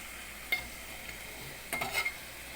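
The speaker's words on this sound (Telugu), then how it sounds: "ఇలా కొద్దిగా వేగిన తర్వాత మనం రొయ్యలు వేసుకుందాం" Boiled prawns stirred in a hot pan for a prawn curry, giving a low, quiet sizzle broken by a brief scrape and a short cluster of clatters and stirring scuffs.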